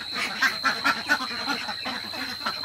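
Farm ducks quacking in a rapid, irregular series of nasal calls, several birds overlapping at moderate distance against a steady background hum.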